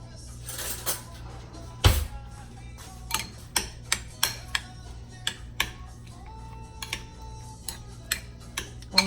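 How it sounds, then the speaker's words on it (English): A spoon stirring salt into a bowl of mango salsa, giving a series of sharp, distinct clicks and taps against the bowl at an irregular pace, close by, with a louder knock early on and a faint steady hum underneath. "let me get a spoon to mix it up"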